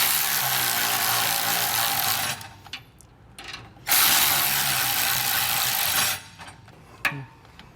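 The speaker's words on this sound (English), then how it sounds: "you're going to want to tighten these down with a 9/16 socket" Ratchet with a 9/16 socket tightening carriage bolts on a B and W Companion 5th wheel trailer hitch underbed kit, a fast continuous clicking that runs in two long bursts with short pauses and a single click between them.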